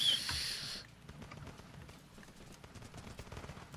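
Mortar strike explosions and gunfire in the Running With Rifles video game: a brief, louder burst at the start gives way to a fairly quiet stream of rapid, crackling shots and thuds that runs to the end.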